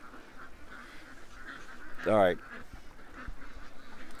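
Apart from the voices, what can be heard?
ducks quacking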